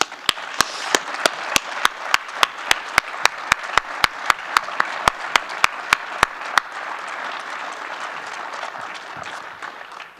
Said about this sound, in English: Let's give my family a round of applause.